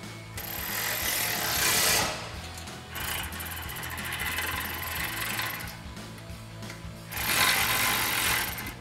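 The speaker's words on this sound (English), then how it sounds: "we're going to tighten those down using our 4mm Allen socket on our ratchet and a 10mm wrench" Ratchet fitted with a 4 mm Allen socket tightening bumper bolts on a 2019-2021 Silverado 1500, a close, fast clicking in three bursts separated by short pauses, with no talking.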